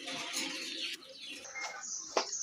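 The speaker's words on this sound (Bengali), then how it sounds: "এগুলো হচ্ছে রাজগোল্লা কবুতর।" Rajgolla fancy pigeons at a pigeon sale, with soft coos and short chirps close by over a busy, hissing background.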